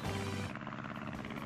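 Metal Sonic's aircraft in Sonic the Hedgehog 4: Episode II, Sky Fortress Zone, gives off a steady, loud whirring drone that holds without a break throughout.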